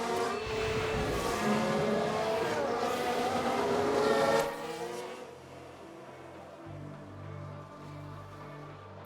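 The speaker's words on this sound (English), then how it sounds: "Was that a lock-up on the track?" An F1 race car in the F1 Manager 1991 racing game locks its brakes with a screeching tire squeal over a loud engine roar, which then drops away to a quieter, lower rumble.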